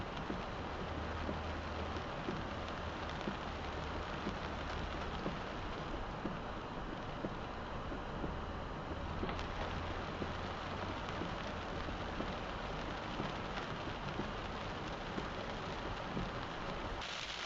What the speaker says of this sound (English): here's a couple shots in the rain with some very tough filming conditions along a rainy country road